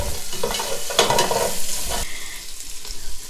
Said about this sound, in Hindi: अब इसके अंदर हम प्याज ऐड करेंगे उसी कुकिंग ऑयल के अंदर।